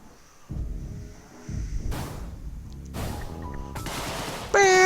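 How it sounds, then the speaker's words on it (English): Rapid bursts of automatic fire from a Tommy gun in the game Deadbolt, loud and close, several bursts separated by short gaps. "I got a Tommy gun."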